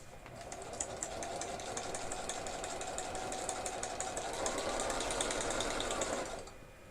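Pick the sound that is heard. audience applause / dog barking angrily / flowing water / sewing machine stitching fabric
sewing machine stitching fabric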